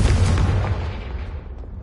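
A booming explosion from a Confringo fire spell in a fantasy spell-casting game, a loud low burst at onset that rumbles and slowly fades over about two seconds.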